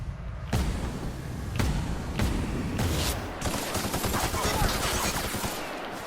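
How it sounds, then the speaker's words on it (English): Rapid bursts of gunfire from The Outer Worlds slam into a wall, the shots crackling close and loud in a steady, overlapping barrage of sharp impacts. "I was shooting a wall"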